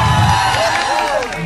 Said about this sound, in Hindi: इनके लिए ताली है यार